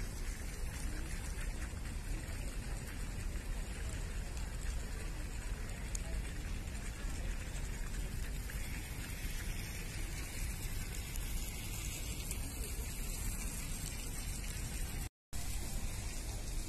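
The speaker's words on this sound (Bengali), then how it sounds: "এখন যেহেতু প্রায় সন্ধ্যা হয়ে আসছে, ওই জন্য সমস্ত গাছে এখন জল দেওয়া চলছে।" Water sprays across trees at dusk on a university campus, a constant soft hiss like steady rain. A brief silent gap cuts in near the end, and a voice talks faintly underneath.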